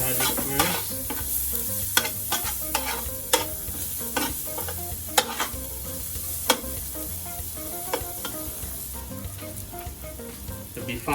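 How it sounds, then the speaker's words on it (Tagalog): Garlic sautés in a hot pan, a steady sizzle broken by sharp clicks and scrapes of stirring, close and continuous with no talking. "Just going to saute the onion and garlic."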